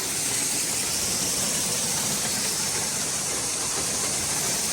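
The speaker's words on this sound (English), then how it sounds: "I'm babysitting this auger. So we are unloading out of this bin here." A grain auger unloads a farm grain bin with a steady, loud, unbroken roar and hiss that holds even throughout, close by, with no voices.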